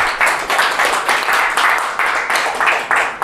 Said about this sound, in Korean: 김도현 형제 큰 박수 부탁드립니다.